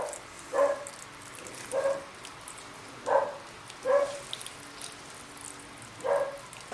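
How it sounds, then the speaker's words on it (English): Beagles barking somewhere nearby in a garden setting, five short separate barks spaced about a second apart, moderately loud over a quiet background. "And the beagle are barking."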